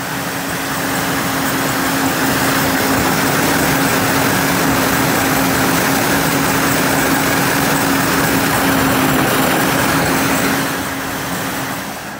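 İhlas Aura Cleanmax air purifier running with mint oil in its water tank, a steady loud motor whir with a constant hum, unbroken for the whole stretch before easing slightly at the end.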